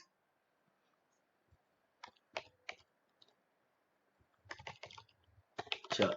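Keys clicking on a computer keyboard at close range: a few scattered keystrokes, then short, faint bursts of typing that grow louder toward the end.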